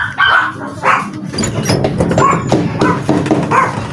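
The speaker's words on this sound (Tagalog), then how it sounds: "Marami rin aso dito." Several dogs bark and yip repeatedly in an outdoor yard, overlapping one another at close range in loud, uneven bursts, with some whimpering mixed in.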